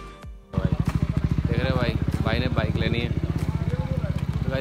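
A Yamaha MT-15 motorcycle engine starts and idles close by with a steady, throbbing low rumble, while someone talks excitedly over it.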